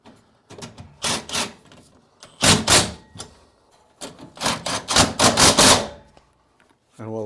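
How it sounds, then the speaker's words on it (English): Impact wrench driving a bolt on a garage door torsion spring, several loud rattling bursts of hammering with short pauses between them, close up. "let the impact do the work"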